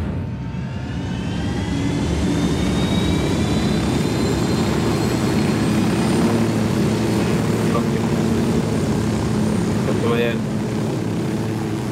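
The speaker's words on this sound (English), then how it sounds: "Right, I'm coming with the chopper to pick you up." A helicopter arrives to pick people up, its continuous rotor and engine roar loud and steady for the whole stretch, with a short burst of chirps or voices near the end.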